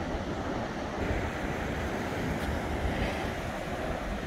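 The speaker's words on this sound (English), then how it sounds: "So the tide's actually going out right now, and I love the tide lines and how the water runs off from the beach." Ocean waves washing onto the beach at Plum Island on an outgoing tide, a steady broadband roar of surf with wind noise, continuous and fairly close, no voices.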